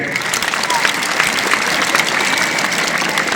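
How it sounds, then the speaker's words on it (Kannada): Young schoolchildren in a classroom or school gathering break into a sustained round of clapping, a dense, even patter of many small hands that holds steady throughout without fading. "ಒಂದ್ಸಲ ಚಪ್ಪಾಳೆ ತಟ್ರಿ"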